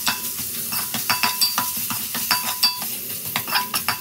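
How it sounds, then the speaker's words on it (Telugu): Onions with ginger garlic paste are stirred in a pan for chicken curry, a continuous frying sizzle punctuated by a quick regular rhythm of spoon scrapes and clinks against the metal, close and without voices. "అల్లం వెల్లుల్లి పేస్ట్ వేసుకొని పచ్చివాసన పోయేంత వరకు కలుపుకోవాలండి"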